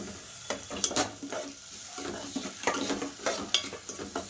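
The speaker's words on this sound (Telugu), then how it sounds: "ఈ టైంలోనే మనం టొమాటోస్ కూడా వేసేసుకోవాలండి" Onions and tomatoes fry and sizzle in a pan for potato kurma, with a spoon scraping and stirring in irregular bursts over a constant hiss, close up and moderately loud.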